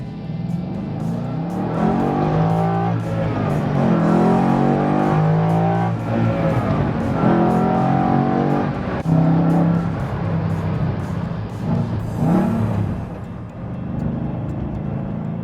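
A 1966 Shelby GT350 Revology production prototype is driven hard, its engine note rising and falling through steady acceleration from inside the car, loud and continuous with gear-change dips.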